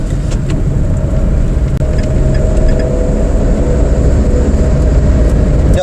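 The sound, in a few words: truck passing on the road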